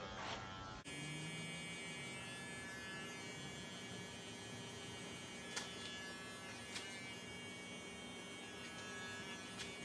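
Electric hair clippers run with a steady, continuous buzzing hum throughout, cutting hair during a mid fade haircut, with a couple of brief sharper clicks and no talk.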